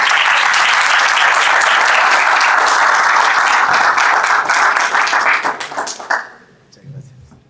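A large crowd at a religious liberty summit in Santander, Colombia, applauds a pastor with loud, dense, sustained clapping that fades out toward the end, and a voice is briefly heard as the applause dies.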